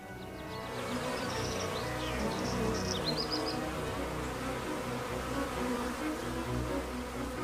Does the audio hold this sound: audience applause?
no